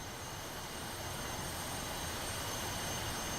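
A steady, droning aircraft engine idles in Digital Combat Simulator World, a continuous broadband hum with a faint high whine that holds level for the whole stretch, with no voices over it.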